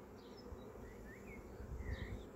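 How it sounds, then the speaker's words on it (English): Welsh black honey bees from a caught swarm hum in a steady, close buzz, with a few individual insects whining past now and then over the low drone. "then I'd say they are definitely Welsh black bees"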